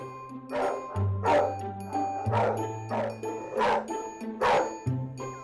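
Several rescued dogs bark repeatedly at an animal rescue centre, loud overlapping bow-wows and yips in a steady rhythm over a low hum and occasional tones.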